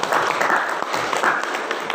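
Audience clapping at a high school graduation and farewell ceremony in Indonesia, a dense, steady patter of many hands continuing throughout.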